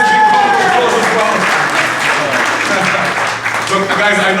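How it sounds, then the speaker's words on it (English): Crowd applause at a Legacy Boxing Promotions event, a loud, continuous patter of clapping with voices talking and calling out over it. "let's give you guys a big round of applause as well"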